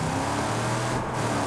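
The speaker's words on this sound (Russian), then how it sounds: "Быстро едет эта машина, ничего не скажешь." A fast car driving in the video game Far Cry New Dawn, a brief steady engine and road roar at close range with no talk.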